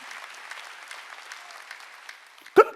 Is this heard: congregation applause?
yes